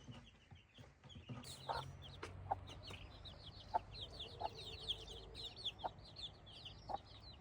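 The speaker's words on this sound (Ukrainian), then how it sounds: "І дуже гарні ранні курочки." Hens in a backyard henhouse cluck and chatter steadily, with repeated sharp clucks rising over a faint continuous murmur of the flock. The sound is moderately close and carries no talking.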